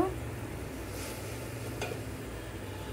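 Spices and garlic paste fry and get stirred in a pan for a prawn and vegetable curry. A steady soft sizzle carries on throughout, with a few faint scrapes of a spoon against the pan.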